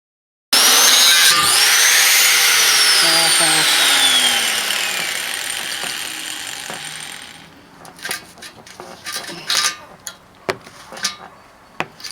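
A 4-inch cutoff wheel grinds through rusty metal with a loud, sustained high whine and shifting tone, then winds down and stops, followed by scattered metallic clanks and knocks.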